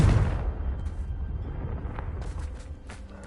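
A Confringo blasting spell detonates in Hogwarts Legacy, a loud booming burst at the start that rumbles and decays into a long low roar with scattered debris crackles.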